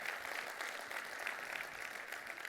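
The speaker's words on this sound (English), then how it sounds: "Let's give the local organizing committee another big round of applause for a job well done." Steady, continuous applause from a conference audience at an IEEE power and energy event, a dense wash of clapping heard from a distance with no voices over it.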